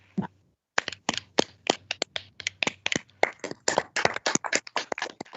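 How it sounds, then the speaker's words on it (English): Short round of clapping from a small audience at a meeting marking a website launch, crisp separate hand claps in an uneven, fairly quick rhythm after a brief pause, with no talk over them. "Can we give just a short applause?"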